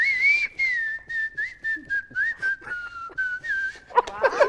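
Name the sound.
person whistling a song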